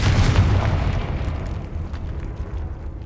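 A fire-spell explosion in the video game Hogwarts Legacy: a loud, deep boom at the start that rolls and fades away over a few seconds.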